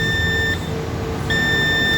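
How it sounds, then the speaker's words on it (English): A multimeter sounds continuity beeps while probing a laptop logic board: two steady, high-pitched electronic tones, each about half a second to a second long, with a short pause between them over a low background hum. "Here also beep."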